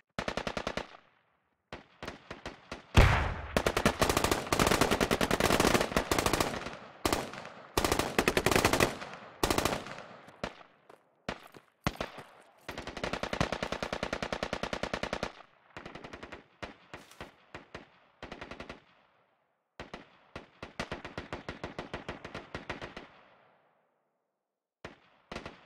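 Machine gun fire in the Squad video game, from a Peshmerga versus ISIS battle, crackles in long loud automatic bursts and shorter volleys with brief silent gaps, alone and without talk.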